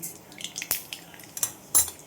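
Mustard seeds drop into hot mustard oil in a wok, giving sharp crackles and pops with metallic clinks of a utensil against the pan, close and sporadic.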